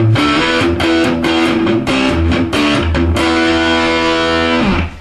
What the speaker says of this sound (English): we're going to put the distortion on our amp